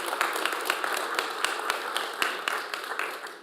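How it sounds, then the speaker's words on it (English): A conference audience at Cloud Native Rejekts Europe 2025 applauds to welcome the speakers, with scattered, moderately loud claps rippling through the room and fading slightly toward the end. "Please welcome them with a good round of applause."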